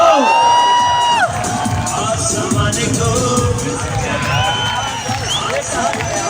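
An audience at an RCM success talk rises to welcome speaker Mukesh Kothari with clapping and hooting. Loud, continuous crowd cheering with whoops and shouts fills the space throughout, with a few high whistling tones near the start.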